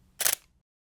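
A single quick mechanical click-clack of a camera shutter firing at 1/1600 second, close and crisp, followed by silence.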